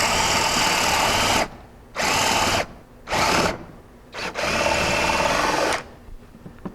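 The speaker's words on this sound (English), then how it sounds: "Now, we get the drill started on here," A hand-held power drill bores into a railing joint to fit spring-bolts, running in loud, close bursts of steady whirring separated by short pauses.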